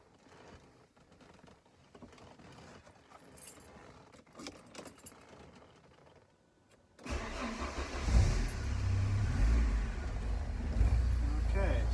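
Keys jingle quietly amid faint talking for several seconds, then a 1987 Porsche 944 engine fires up from cold and settles into a loud, steady running rumble close by.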